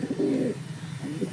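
Pigeons coo in a breeder's loft: two soft, low, throaty bursts, one early and one near the end, close by over steady background hiss, with no voices.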